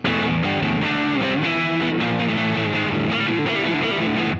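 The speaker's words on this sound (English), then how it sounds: "sometimes it's much easier to just turn up the distortion and play something like" A heavily distorted electric guitar plays a dense, continuous riff, loud and saturated with sustained overdriven tones throughout.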